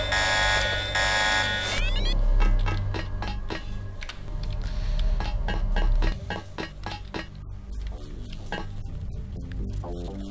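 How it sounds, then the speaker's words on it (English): An electronic alarm sounds in the video game Deus Ex, a steady buzzing tone within a dense mix of game music, clinks and effects that carries on throughout. "How did this alarm sound though?"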